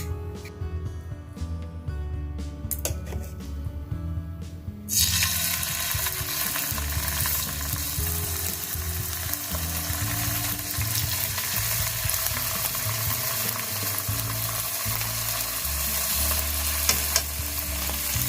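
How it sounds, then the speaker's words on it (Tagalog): Pork belly for chashu sears in a hot pan with a steady, loud sizzle and crackle that flares up sharply a few seconds in and stays dense and continuous to the end. "We're going to sear our pork belly."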